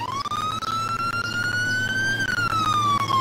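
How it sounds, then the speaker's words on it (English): A wailing alarm siren from the Roblox video game rises and falls steadily and loudly for a few seconds, with no voices. "Oh, nope, there's sound effects. It's just I had my earbuds turned down. It's just an annoying alarm."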